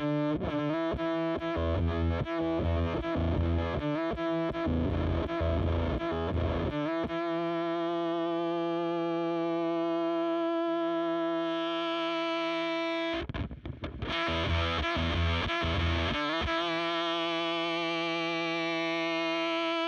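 Electric guitar run through a transistor fuzz pedal built around a Fairchild 2N3565 transistor, giving thick, saturated sustained notes and chords with rhythmic chugging bursts, a long ringing hold in the middle, then more choppy strikes, loud and alone.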